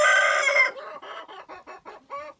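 A rooster crows loudly up close among Brahma chickens, then a run of quick, short clucks follows in a choppy rhythm.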